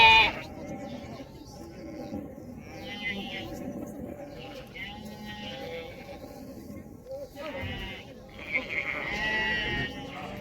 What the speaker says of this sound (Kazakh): Қозылы қойлар қанша отыр екен?